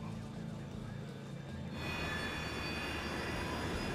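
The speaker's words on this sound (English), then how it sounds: "The crew is preparing the plane for takeoff." An American Airlines airliner's engines hum steadily on the ground as the crew prepares for takeoff, a low rumble that grows louder and fuller partway through.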